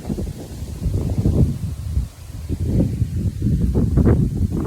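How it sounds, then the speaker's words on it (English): Wind at a campsite buffets the microphone in a steady low rumble with gusty swells, loud and close, with no other sounds. "If you can hear the wind, my boyfriend and I are camping."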